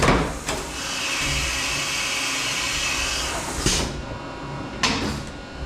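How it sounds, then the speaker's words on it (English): A CNC machine's tool changer picks up a 5-inch face mill: a steady whirring mechanical hum runs for several seconds, with sharp clunks near the start and two more near the end, loud and close. "It's gonna grab the 5-inch face mill."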